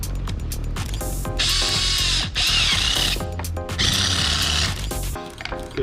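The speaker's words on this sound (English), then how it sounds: "Now we're going to go ahead and clamp this for now." Clamps being ratcheted tight onto a homemade pressure vessel for a hairspray can test, giving loud repeated mechanical ratcheting and clicking bursts, close up, with no talk over it.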